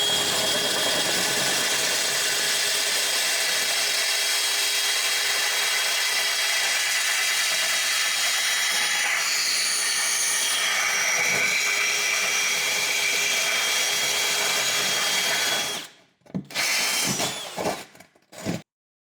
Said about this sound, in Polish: Pierwszy otwór wywiercę z użyciem takiej przyssawki, aby wykonać go jak najbardziej precyzyjnie.